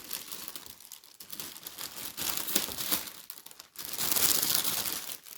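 Crinkling and tearing of wrapping as a package holding a Legend of Zelda shield replica is opened, close and moderately loud, in irregular rustling bursts.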